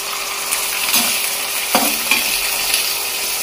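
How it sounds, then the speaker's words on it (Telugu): Bitter gourd pieces frying in a pan give a continuous bright sizzle, loud and near, broken by several spatula scrapes and stirs; no one speaks. "ఒక 2-3 మినిట్స్ వదిలేస్తే అదే మంచిగా ఫ్రై అయిపోతుంది"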